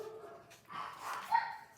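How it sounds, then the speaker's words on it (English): Dogs bark and yip in the background, a few soft, distant-sounding barks rising over a low indoor hum. "Dogs are chatting with each other."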